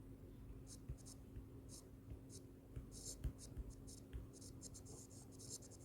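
Hand writing during a chemistry lecture on alcohols comes through as faint, intermittent scratchy pen strokes in short bursts over a low room hum, quiet and close.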